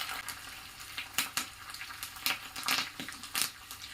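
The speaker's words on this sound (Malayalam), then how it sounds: "ഇനി കരിഞ്ഞു പോകാതെ ഒന്ന് മൂപ്പിച്ചെടുക്കാം" Shallots, halved dried red chillies and curry leaves fry in hot oil for a pumpkin curry, a steady close sizzle with sharp crackling pops and spatters bursting through it.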